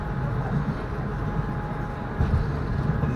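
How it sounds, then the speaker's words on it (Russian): Steady rumble and hum from inside a moving tram leaving town for the countryside, a continuous low drone that grows a little louder and rougher near the end. "сел я в трамвай и уже еду"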